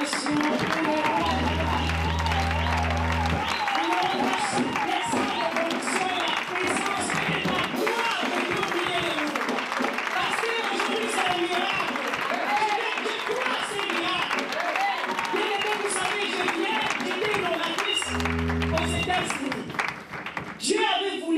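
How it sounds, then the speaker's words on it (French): A church congregation keeps up loud continuous applause and cheering in a French-language worship service, dense rhythmic clapping and crowd shouts mixed with a voice and low instrumental tones, fading slightly near the end. "Nous continuons les belles acclamations pour le roi"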